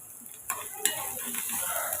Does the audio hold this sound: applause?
no